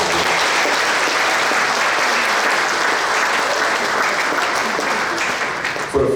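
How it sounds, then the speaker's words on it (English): A book fair closing ceremony audience applauds in honour of Sheila Marshall, loud, dense and sustained clapping from a large crowd that holds steady throughout and thins slightly at the end. "Give her applause."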